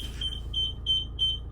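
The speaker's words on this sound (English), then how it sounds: "you'll hear the beeping and your reversing camera will come on your dashboard." Chausson 724 motorhome reversing warning: a steady series of short, high electronic beeps at a regular rhythm, heard clearly inside the cab over a low engine hum.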